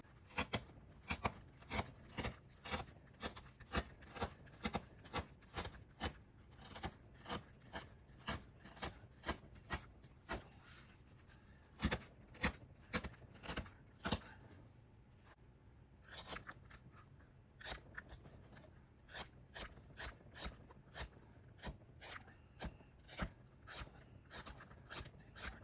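A steel knife blade slices through sheets of paper in a cutting test, giving a long run of quick rhythmic swishing cuts, faint and close, with a brief pause midway before the strokes resume.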